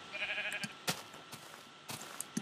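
Sheep bleating in the video game Minecraft, several short bleats spread across a quiet stretch of gameplay, fairly faint with soft background sound between the calls.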